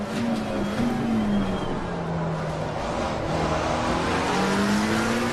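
A video game race car engine whines at high revs, its pitch rising and dipping steadily as it holds speed, with no talking.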